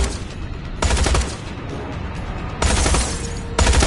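Bursts of gunfire in the game Tales from the Borderlands, two loud rapid volleys of shots separated by quieter background noise, close and dense.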